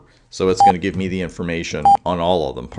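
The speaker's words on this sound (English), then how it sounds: "Pardon the beeping there." Two short, steady electronic beeps sound over a man explaining network router output, each lasting about a tenth of a second, about a second apart.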